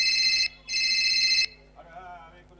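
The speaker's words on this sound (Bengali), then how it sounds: "এই দেখ আবার ফোন।" A telephone rings loudly nearby with two long electronic trill bursts separated by a brief gap, and faint voice-like sounds follow after the ringing stops.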